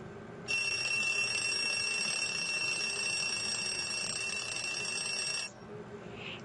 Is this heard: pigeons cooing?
no